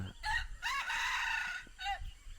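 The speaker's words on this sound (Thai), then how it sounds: "ตื่นเพราะว่า ไก่มันขัน ถึงดังมาก" A rooster crowing at dawn at a campsite in Suphanburi, Thailand, one loud nearby crow with a short clucking call before it, and no talk.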